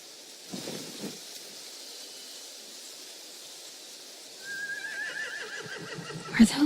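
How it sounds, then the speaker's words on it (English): A horse gives a clear rising whinny partway through, fairly near, over a quiet background with a couple of soft thumps early on and a sharper knock at the end, no speech. "They have horses."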